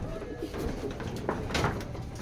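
A racing pigeon at a loft gives soft, low coos in short bursts, with faint background noise around it.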